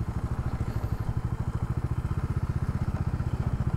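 A motorcycle engine thrums in a fast, even pulse while riding along a road, close and steady with no voices.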